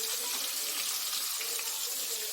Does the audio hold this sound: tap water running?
yes